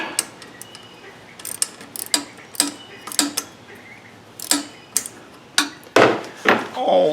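Nut being tightened by hand on a Briggs V-Twin engine during governor gear repair: a string of short, sharp clicking and rasping strokes at a fairly steady pace, close and fairly loud, ending in a few denser, heavier bursts.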